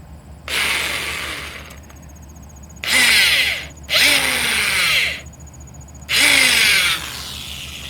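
A power drill running in reverse whirs in four separate bursts with short pauses between, each run winding down with a falling whine. Close and loud.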